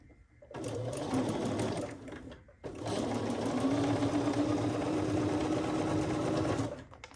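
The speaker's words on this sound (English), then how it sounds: "I'm going to sew it to the top just like this." A sewing machine stitches fabric pieces for a quilt block in two close bursts, a steady rapid whirring hum that pauses briefly before running again for several seconds.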